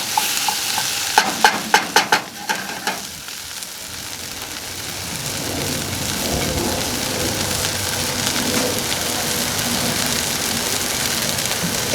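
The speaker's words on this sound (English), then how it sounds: "We're just going to mix that around. We're going to let that tomato paste cook for a little bit longer." Tomato paste sizzles in a hot pan while a utensil stirs it, with a few sharp scraping knocks at first and then a steady, dense, crackling hiss that keeps going.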